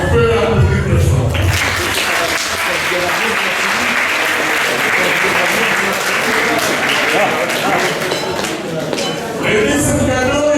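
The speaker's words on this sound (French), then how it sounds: "on peut applaudir très fort" A room of people breaks into loud, sustained applause at a gift-giving gathering, dense clapping carrying on for about ten seconds while voices speak over it near the beginning and end.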